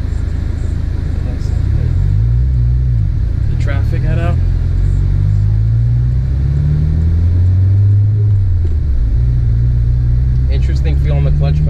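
A Subaru WRX engine pulls steadily under acceleration while driving, a loud continuous low drone whose pitch climbs and dips through the clip, with someone talking over it.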